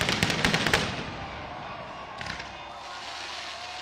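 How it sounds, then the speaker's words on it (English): Fireworks go off after a football match between FC Tulsa and Las Vegas Lights FC, a rapid burst of sharp crackling bangs at the start that fades into a sustained roar of crowd and ambience, with a few more distant pops later. "The fireworks go off."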